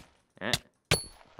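Bow shots in Minecraft Hypixel Skywars: two brief, close bursts, a short twangy release followed a moment later by a sharper snapping hit, with a faint tick trailing after.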